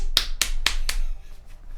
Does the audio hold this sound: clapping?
yes